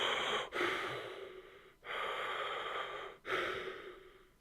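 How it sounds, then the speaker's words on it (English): Heavy, noisy breathing sounds close and alone, three long airy breaths separated by brief sharp pauses, each drawn out and rasping at a moderate level. "I can make out my breathing very noisy here"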